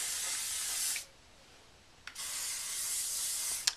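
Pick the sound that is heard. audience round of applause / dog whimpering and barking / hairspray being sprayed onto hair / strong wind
hairspray being sprayed onto hair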